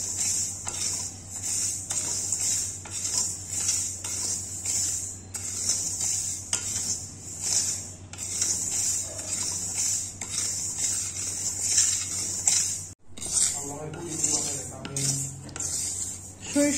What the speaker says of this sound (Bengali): সরিষা কিন্তু আমি একদম লো হিটে রেখে তারপরে কিন্তু ভেজে নিচ্ছি